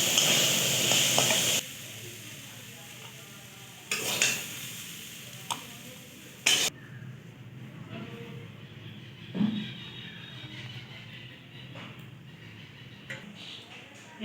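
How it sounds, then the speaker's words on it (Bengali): Potatoes fry and sizzle in a pan on a village kitchen stove, with bursts of scraping stirring and a few clinks of the utensil against the pan, all close by. "এবার ভালো করে ভাজা হয়ে গেছে"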